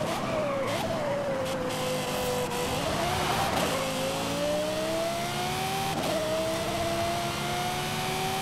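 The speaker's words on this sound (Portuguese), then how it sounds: "Mas que o som do nosso carro é mais bonito" Lexus car engine revving in Forza Horizon 5, a steady loud engine tone rising and falling in pitch through gear changes, close and continuous with no talk over it.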